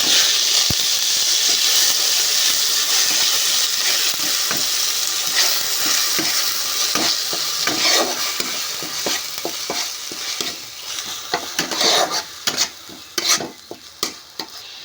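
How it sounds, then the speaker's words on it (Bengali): Onion paste sizzling loudly in hot oil for doi katla fish curry, with a continuous hiss broken by repeated scraping strokes of a spatula that grow sharper and more distinct toward the end. "ভালো করে একটু নেড়ে নিতে হবে নাড়ার পরে পেঁয়াজ বাটা দিয়ে দিতে হবে"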